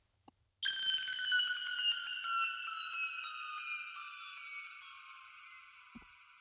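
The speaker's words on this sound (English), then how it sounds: "usually like a square wave and then just kind of make the pitch go down." A bright electronic square-wave synth tone sweeps steadily downward in pitch with a rapid LFO warble, ringing for several seconds after a short click.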